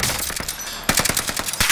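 Rapid bursts of video game gunfire from a three-shot pistol, sharp cracks repeating in quick groups at close range and loud, with no talking over them.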